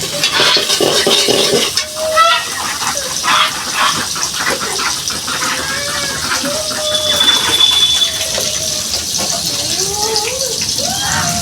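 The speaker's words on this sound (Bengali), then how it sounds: "সুন্দরভাবে ভাজি নেবো।" Ingredients for lentil khichuri fry and sizzle in a pan while being stirred, a steady hiss with scraping under a voice talking intermittently.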